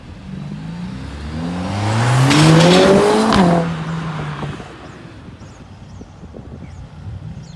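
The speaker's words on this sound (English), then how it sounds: "Still got quite a few cars entering actually." A car engine swells as a vehicle drives past close by, peaking loudly then fading into a low rumble of other traffic.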